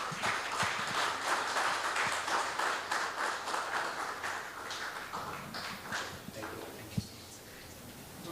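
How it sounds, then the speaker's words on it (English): An audience at an oncology summit conference applauding, a steady loud round of clapping from a large crowd that gradually thins out. "A round of applause for sir."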